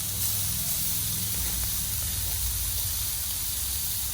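Onions sizzling on a grill for a New York chopped cheese burger sandwich, a loud, even hiss that holds steady throughout, close and uninterrupted.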